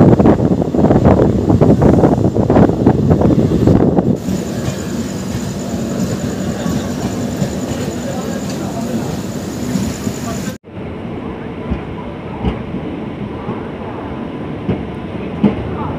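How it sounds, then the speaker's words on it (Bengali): A train runs through platform 5 of Mecheda station on the Kolkata to Puri route, heard as a loud, continuous rumble with rail clatter and wind buffeting that shifts in tone twice as the carriages roll on. "মেছেদা স্টেশনের 5 নাম্বার প্ল্যাটফর্ম থেকে আমাদের ট্রেন ক্রস করছে"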